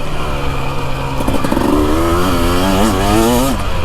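Husqvarna TE300 two-stroke and FE450 four-stroke dirt bikes with throttle-body injection accelerating, the engine note climbing steadily in pitch as the rider pulls through the revs, loud and close throughout.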